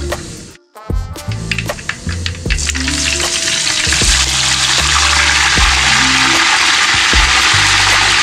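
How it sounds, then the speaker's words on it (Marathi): A sudden loud sizzle erupts as curry leaves and garlic hit hot oil, settling into continuous crackling frying with faint scraping and clinks underneath. "आता मी फोडणी देते कढीपत्ता आणि लसूणची"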